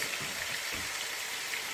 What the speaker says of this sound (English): I'm gonna add hot water to it.